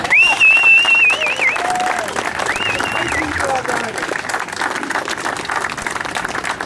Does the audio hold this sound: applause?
yes